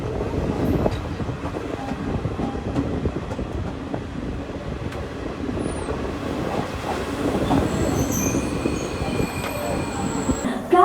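Shalimar Kurla Express with old ICF coaches rolling into Durg Junction: a steady, close rumble of coaches on the rails with faint high wheel squeals riding on top, continuous throughout, no voices.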